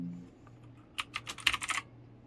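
Someone types a quick burst of about eight sharp, close key clicks on a new mechanical keyboard after a short quiet pause.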